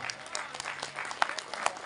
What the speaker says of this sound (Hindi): कमजोर है, तालियां कमजोर